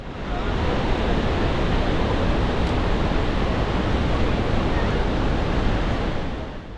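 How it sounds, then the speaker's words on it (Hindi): Barachukki waterfall on the Kaveri river at Sivanasamudra, a huge volume of water plunging from height, gives a loud, steady, unbroken roar that fills the whole stretch with no voices. "जब इतने बड़े अमाउंट में पानी इतनी हाइट से नीचे गिरता है।"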